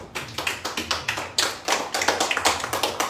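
Audience applause at a multi-level-marketing business event, steady clapping from a crowd sustained for about three seconds with no speech over it.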